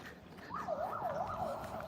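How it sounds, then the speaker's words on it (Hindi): A police car siren sounds on a street in Naharlagun near a hospital. It wails in rising and falling sweeps, steady and moderately distant, with no voices over it. "तो पुलिस का सायरन बजते हुए"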